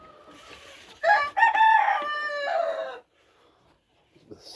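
A rooster on an off-grid homestead farm gives one loud, close crow during morning chores, with soft hen clucking before and faint clucks trailing afterward.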